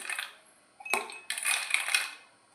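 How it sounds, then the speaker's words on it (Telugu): Ice cubes drop into a glass of falsa sherbet, giving a few close, bright clattering clinks in short bursts separated by brief pauses. "ఐస్ క్రీమ్స్ వేసేస్తున్నాను ఫ్రెండ్స్"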